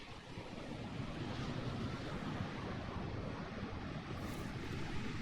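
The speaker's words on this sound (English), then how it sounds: "Oh, it's really windy." Strong wind gusting across a high, green cliffside in the climbing game Jusant, a steady broadband roar with no voices.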